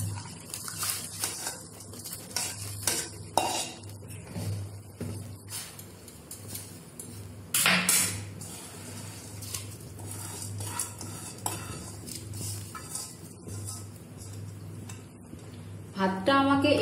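Rice soaked for an hour and a half is tipped into boiling water in a pot for zarda pulao and stirred, with scraping utensil clinks and a faint bubbling under occasional talk.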